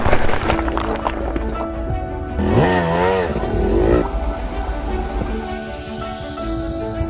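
A 110cc pit bike is ridden hard on rough, hard-enduro single-track trail in Colorado. The small engine buzzes loudly and steadily, with a rising and falling rev surge partway through.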